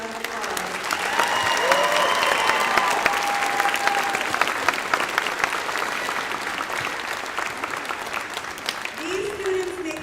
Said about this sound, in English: please give these outstanding Northern Cambria High School students a huge round of applause